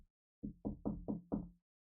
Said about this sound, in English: Now there's a knock at the door.